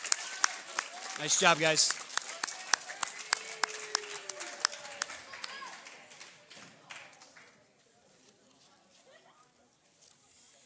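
Applause from an audience at a junior high academic awards ceremony, loud claps and cheering that gradually thin out and fade, with a voice speaking briefly over it.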